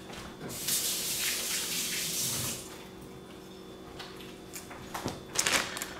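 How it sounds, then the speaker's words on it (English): Water running from a kitchen tap as hands are washed, a steady broadband rush for the first few seconds, then quieter splashes and brief clatters near the end. "I'm gonna wash my hands for one moment"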